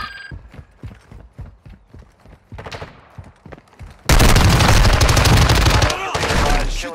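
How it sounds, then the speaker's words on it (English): Video game gunfire arrives first as a string of sharp, separate shots with gaps between them, then erupts into a loud, continuous barrage that dominates the final seconds. "You are taking effective fire."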